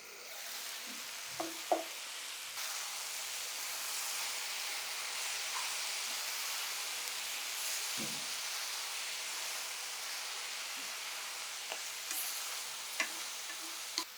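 Mixed vegetables for a pickle fry and cook in a pan with a steady soft sizzle throughout, broken by a few faint stirring clinks and taps.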